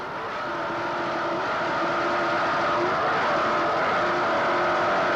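An offshore racing powerboat at the 1988 Key West APBA World Cup tears across open water, its engines a loud, continuous, steady roar that builds slightly and holds without letup, no voices over it.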